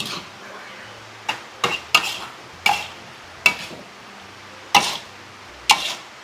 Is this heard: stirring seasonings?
yes